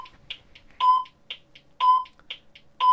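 A quiz timer sounds three loud electronic beeps, evenly spaced about a second apart, with fainter chirps in between, during a classroom religion quiz program.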